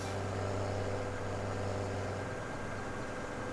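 In the Farming Simulator 17 video game, a tractor drives back to the yard at accelerated time, giving a steady, low engine drone with no breaks and no talk.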